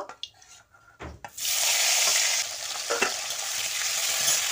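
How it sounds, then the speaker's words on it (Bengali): Chopped tomatoes drop into hot oil for a hilsa fish curry and burst into a loud, steady sizzle after a few quiet clinks of the pan, frying continuously up close. "ওই তেলের মধ্যে আমি কেটে রাখা টমেটোগুলো দিয়ে দেব"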